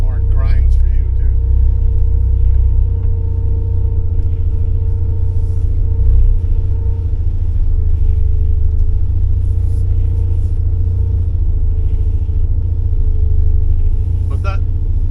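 A 1979 Porsche 924 engine grinds under the starter with the fuel pump running, a steady low rumble and hum held for the whole stretch, close and loud, with clicks at the start and end.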